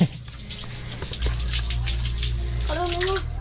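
Water gushing and splashing steadily while a pig is bathed on a farm, a continuous close rushing spray. A voice briefly rises over it near the end.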